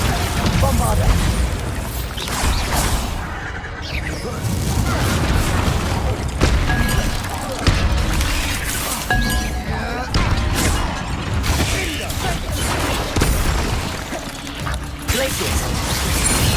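Spell effects in Hogwarts Legacy, including Confringo and Bombarda, burst in repeated booms, crashes and magical whooshes during combat, irregular and fairly loud, with a voice speaking between the blasts.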